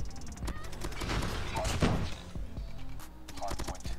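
Gunfire in Call of Duty Mobile, a rapid series of sharp shots in bursts at close range, with faint talk underneath.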